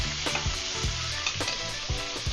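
Steak searing in a very hot pan with cracked black pepper, a steady loud sizzle broken by scraping stirs and clanks of the pan, no voices.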